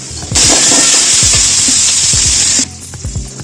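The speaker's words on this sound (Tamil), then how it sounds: "வெங்காயம் பூண்டோடு சேர்த்து ஒரு தக்காளி பழம் போட்டு நல்லா வதக்கி விடுங்க" Onion, garlic and tomato drop into hot oil for a mutton curry and set off a sudden loud hissing sizzle. It holds for about two seconds, then quickly dies down to a softer crackle while stirring knocks and scrapes continue nearby.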